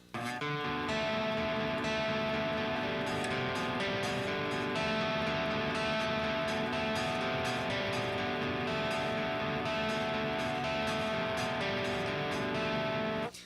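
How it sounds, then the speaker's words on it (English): Electric guitar plays a repeating picked riff for a rock/metal song, steady and continuous with distorted tone, heard alone without talk. "So I came up with this guitar picking part."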